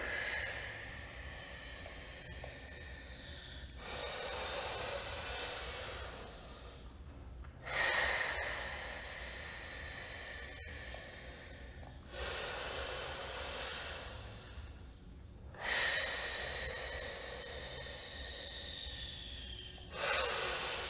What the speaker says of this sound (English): So start with an inhale and exhale and sink.